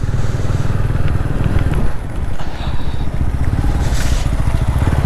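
Motorcycle climbing a steep winding mountain road at night in second or third gear, its engine droning loud and close with steady low throb and rough road noise underneath.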